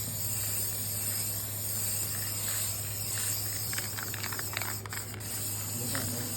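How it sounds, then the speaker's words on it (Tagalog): White spray paint hisses onto a car valve cover with no primer, a steady close hiss running throughout over a constant low hum. "Wala tayong primer, kaya puti na lang muna nating i-spray."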